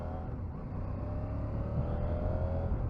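A 2022 CFMOTO 800MT motorcycle engine drones steadily while riding, a continuous close, moderately loud hum with rising harmonic tones as it revs, alone without talk.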